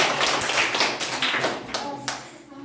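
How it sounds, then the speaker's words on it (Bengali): A group claps for a team during a classroom quiz-style activity: a dense burst of many hands clapping together, steady and close, fading slightly toward the end. "এই ওদের জন্য একবার হাততালি হয়ে যাবে"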